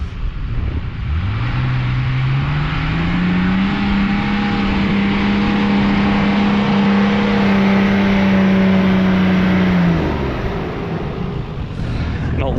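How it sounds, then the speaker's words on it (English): A Nissan Patrol drives with a loud, close engine drone that climbs in pitch as it accelerates, holds a steady cruising note for several seconds, then eases off near the end. "The Mighty Patrol, apparently the most capable car on the trip"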